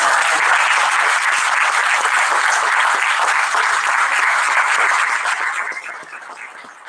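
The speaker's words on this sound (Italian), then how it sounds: "No, qui applaudiamo, dai." Audience applause at a public talk with Shaun Bythell: dense, sustained clapping from a crowd, loud and steady before thinning and fading out toward the end.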